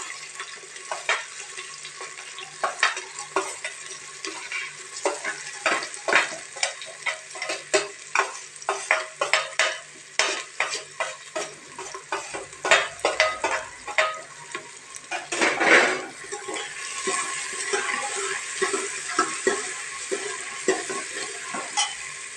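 Onions sizzle and crackle steadily in a hot pan for dal tempering while a utensil stirs and scrapes at them, no voices.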